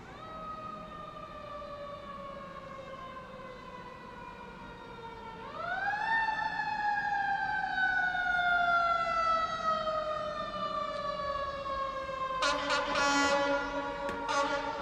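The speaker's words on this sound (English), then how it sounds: "here come more ambulance" Ambulance sirens wail past outside a Los Angeles hotel at night, one rising tone sweeping in and sliding slowly down, then a second burst of harsher siren blasts near the end; fairly distant and steady, no voices.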